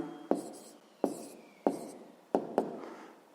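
Five quick, close scratches as an answer is written down during a sixth-grade math problem, the strokes spaced unevenly with the last two close together, and no voice.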